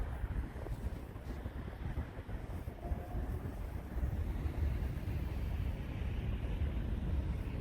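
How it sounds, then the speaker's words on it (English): Strong wind buffets a flying camera drone hovering about 13 meters up, producing a steady low rumbling roar of wind noise across the microphone throughout. "She's pretty windy, guys."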